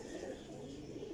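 An Imamdin Golden and Teddy cross pigeon coos in a brief, soft, low rumbling call, heard faintly and close under background noise with no talk.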